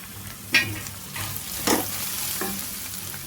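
Peas and chopped vegetables hit a hot pan for fried rice and sizzle steadily, with a few sharp stirring scrapes and clatters over the hiss.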